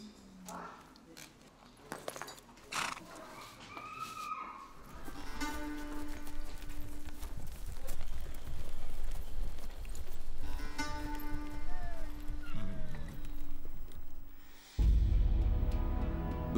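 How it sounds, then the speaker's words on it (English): Horses run in race training at the Jiaosu Celestial Horse Festival in Xinjiang, their hoofbeats clip-clopping at a distance under a narrator's voice, with crowd noise and a sudden loud burst of wind or rumble near the end. "Today is the horse race in the Jiaosu Celestial Horse Festival."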